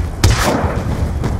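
Strafing gunfire in Call of Duty Black Ops 2 hits with a loud, booming blast, then a rumbling tail and a second, fainter impact about a second later.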